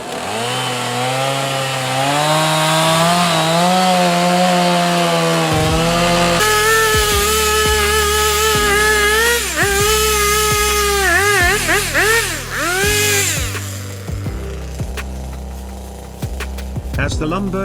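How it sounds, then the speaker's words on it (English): A chainsaw cuts through a thick felled tree trunk on a forest floor, its engine revving loud and steady with rising and falling pitch as the bar bites into the wood. "his chainsaw slices through the thick trunk with ease"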